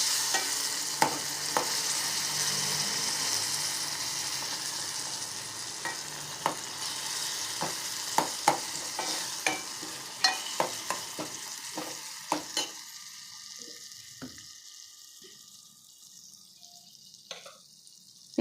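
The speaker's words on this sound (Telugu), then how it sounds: "ఇక్కడే నూనెలో కరివేపాకు, పచ్చిమిరపకాయ కూడా వేసేసుకోవాలి" Curry leaves and green chillies frying in hot oil for tomato pappu, a steady sizzle with scattered stirring clinks and spoon taps that fade toward near silence at the end.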